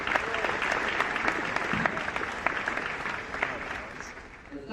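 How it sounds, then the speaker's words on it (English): A crowd of high school graduates at a commencement ceremony claps steadily for several seconds, a dense, sustained applause that tapers slightly toward the end, with some voices mixed in. "Give yourselves a round of applause."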